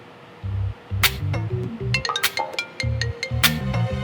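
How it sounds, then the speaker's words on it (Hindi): A mobile phone rings with an incoming call: a loud, close, repeating melodic electronic ringtone, bright chiming notes in short phrases separated by brief pauses. "बैंक वालों का फोन है।"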